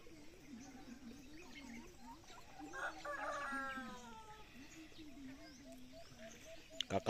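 A large free-range rooster crows once in the middle while hens cluck softly around it, with a voice speaking faintly in the background.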